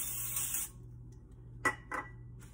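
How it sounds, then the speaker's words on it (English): Short hissing bursts of an aerosol oil spray into an air fryer basket, one longer spritz followed by two quick sharp puffs, close by in an otherwise quiet room. "I'm just gonna spray a little bit of oil in the bottom"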